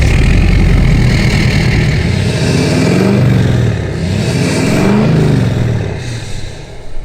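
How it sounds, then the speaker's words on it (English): Tuned pickup truck engine revving repeatedly with a deep, rumbling exhaust note, rising and falling in several close, loud pulls with no talking. "it does have a rather subtle exhaust note."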